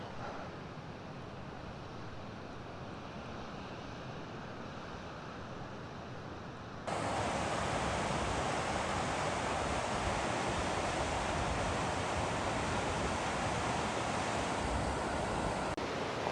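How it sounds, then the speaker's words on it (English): Flowing water of the East Fork of the Big Wood River, a steady broadband rush heard alone that jumps sharply louder partway through as the river comes closer, then holds constant. "there's the East Fork of the Big Wood River"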